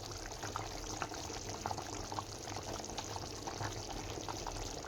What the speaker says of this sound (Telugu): ఇప్పుడు ఇదైతే బాగా మసిలింది